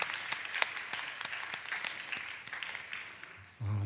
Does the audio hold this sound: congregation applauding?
yes